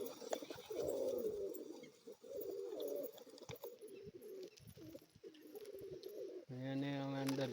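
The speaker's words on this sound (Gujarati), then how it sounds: "જો ત્યાં આપણા કબૂતર ફરે છે" Pet pigeons coo continuously and close by in a dense, throaty drone that runs the whole time, ending with a louder, clearly pulsed coo call.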